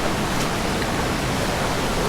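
A small river stream flows on a farm lot in Bagong Silang, Real, Quezon, giving a steady, loud, broadband rush of water with no pauses.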